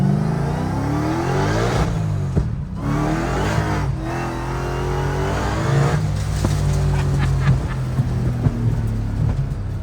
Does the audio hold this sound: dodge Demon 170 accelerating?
yes